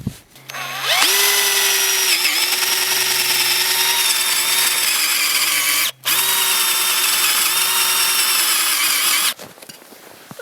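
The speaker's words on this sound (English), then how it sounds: "we're just going to drill directly in the center, all the way down as far as we can" Power drill fitted with a spade bit boring straight down into the centre of a wooden log, a steady loud whine with a low grinding rumble that runs for about eight seconds, dipping briefly once mid-way, then stops.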